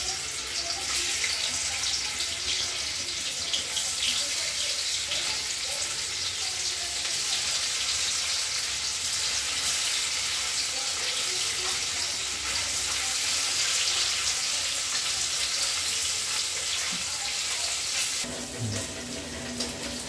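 Paneer cubes sizzle in a hot pan, a steady, bright frying hiss that holds loud and even for about eighteen seconds before easing slightly, with faint clinks near the end.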